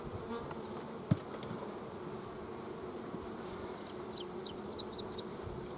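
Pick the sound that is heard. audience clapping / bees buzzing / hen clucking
bees buzzing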